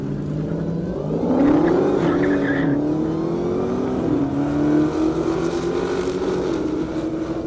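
Dodge Challenger Hellcat cars with superchargers race down an airstrip at a half-mile speed event, a loud engine roar rising and sweeping past with a whining pitch and some tire noise.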